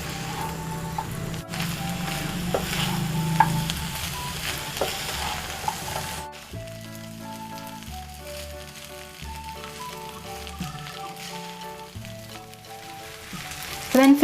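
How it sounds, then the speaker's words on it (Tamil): Tawa pulao rice being stirred and fried on a high flame, steady close sizzling with frequent scraping stirs of a spoon against the pan, with no voices. "இப்போ ஒரு ஹை ஃப்ளேமில் ஒரு 2 to 3 மினிட்ஸ் இதை மிக்ஸ் பண்ணிக்கிட்டே இருங்க"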